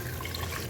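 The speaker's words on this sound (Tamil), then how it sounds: "ஸோ நான் தண்ணி ஊற்றிடுறேன்" Water poured into a pot of cooking biryani masala, a short, steady splashing gush, close and moderately loud, no talk.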